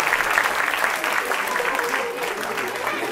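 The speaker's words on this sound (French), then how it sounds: "Voilà, on peut les applaudir." An audience at a Christmas choir event applauds steadily, a continuous close round of clapping with no voices rising above it, holding at an even level throughout.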